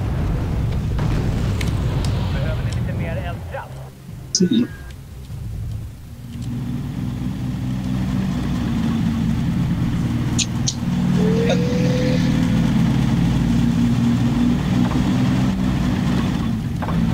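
An old RB-56 vehicle in a war video game drives along with a steady, loud engine drone that rises slightly in revs, while a voice speaks briefly over it.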